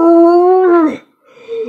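A person imitates a lion with a loud, sustained tonal voiced howl that breaks off into a rough gasp, followed after a pause by a quieter, softer vocal continuation.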